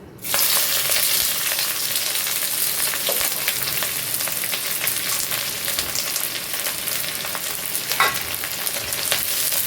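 Onions fry in a pan over hot caramelised sugar for a mutton curry, a steady close sizzle and crackle with occasional stirring scrapes throughout.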